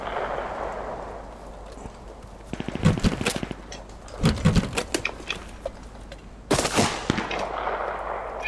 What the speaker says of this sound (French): Je lui mets une balle dans la tête.